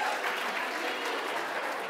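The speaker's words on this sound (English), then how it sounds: "everybody give a round of applause to the scribe" A classroom group at a teacher assessment training session gives a round of applause, dense steady clapping throughout.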